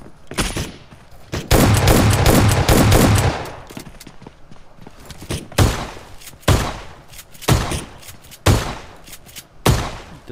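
Automatic weapon fire in the battle royale game PUBG Mobile: a sustained loud burst of rapid shots, then a string of short separate bursts with brief gaps between them, no talk.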